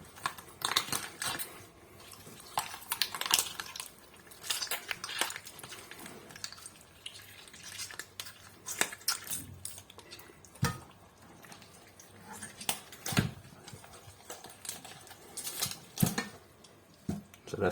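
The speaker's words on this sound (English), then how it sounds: "You just cut down the carcass and you can detach the backbone." A knife works down a raw chicken carcass to free the backbone in a home kitchen, giving faint irregular wet cuts, crackles and small clicks against a board, with brief clatters and no talking.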